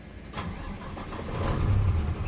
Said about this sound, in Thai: ติดเครื่องครับ